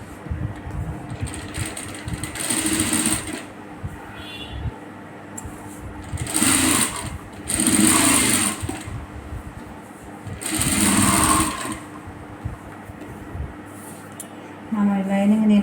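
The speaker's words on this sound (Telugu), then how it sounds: "మనం ఈ లైనింగ్ని ఇలా సర్దుకుంటూ కుట్టేయాలి అడుగులు." A sewing machine stitches the lining of a blouse back piece in a tailoring lesson, running in several short bursts with pauses between them while someone talks over it.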